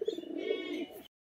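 Pet Giribaj high-flying pigeons and Mundisada Madras pigeons cooing, a soft low warbling coo held for about a second at close range, with no other sound around it.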